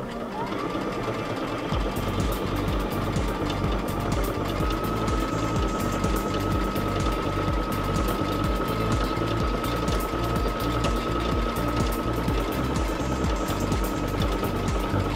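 Sewing machine stitching a decorative stitch with metallic thread on black fabric, a steady rapid mechanical chatter running continuously at close range with no talk.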